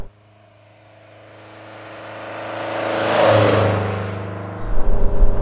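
A 1976 Lancia Fulvia's engine drones under load while driving, the pitch rising steadily and growing louder before easing back and then surging again, heard from inside the car.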